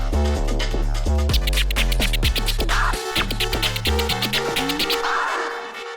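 Fast DJ chirp scratches on a turntable worked with the crossfader, a rapid, steady run of short chopped record squeaks over a looping beat, loud and close, with no talking.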